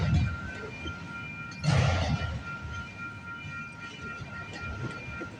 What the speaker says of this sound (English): We got a westbound CPKC train coming.